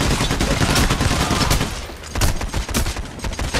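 Rapid, dense gunfire in the video game Payday: The Heist, overlapping automatic bursts and shots crackling continuously at close range, loud and unbroken for several seconds.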